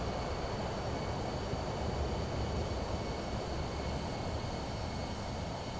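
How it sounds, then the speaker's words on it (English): A Pilatus PC-24 business jet in Microsoft Flight Simulator 2024 holds a steady, even turbine roar with a faint high whine, continuous and unchanging for several seconds, moderately quiet and without talk. "PC-24 is sounding nice."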